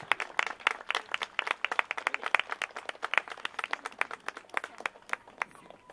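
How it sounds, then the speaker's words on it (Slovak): Applause from a crowd at a police demonstration, a steady run of sharp, fairly distant claps lasting several seconds, with no voices over it. "A váš potlesk je na mieste."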